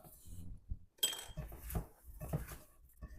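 Shrimp being mixed by hand with red chilli powder in a bowl, giving close clinks and scraping clatter in bursts alongside a speaking voice.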